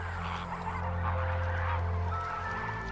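Water birds at Sambhar Salt Lake in Rajasthan, where flamingos, pelicans, storks and herons gather, call in repeated goose-like honks over a steady wash of background noise, moderately close.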